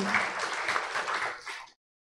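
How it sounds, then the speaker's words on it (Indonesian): An audience at a school workshop in Indonesia gives a short burst of applause, dense and fairly close, lasting under two seconds before stopping abruptly. "Beri tepuk tangan untuk kita semua."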